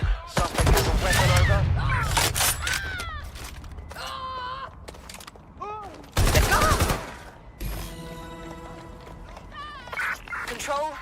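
Gunfire in the Watch Dogs Legion video game, with a shotgun in play: loud bursts of shots near the start and again around the middle, mixed with in-game voices talking and shouting.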